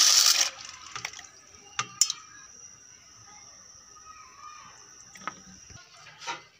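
Water poured from a container into an open cooking pot for chicken vegetable pasta, a faint, steady, low pour with a few light clinks at the start and end, no talk.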